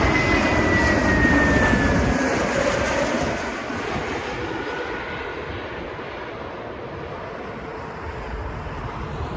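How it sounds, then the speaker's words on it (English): A Turkish Airlines Airbus A320 landing at Heathrow Airport: a loud, steady jet engine roar with a whining tone that slowly fades as the aircraft passes. No one speaks. "It's Turkish Airlines A320 again. Oh look, here it comes."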